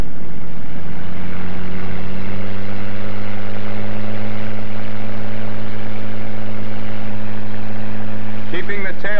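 A P-51 Mustang's piston engine roars at full takeoff power, propeller at maximum RPM, a loud steady droning hum with strong low tones throughout, joined by a brief voice near the end.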